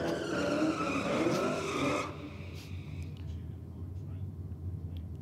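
Holden Caprice drag car, a 10-second car, launching down the drag strip. A loud, close roar with tyre squeal builds for about two seconds, then drops away to a distant rumble while a commentator talks over it.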